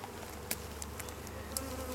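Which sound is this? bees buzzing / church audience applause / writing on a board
bees buzzing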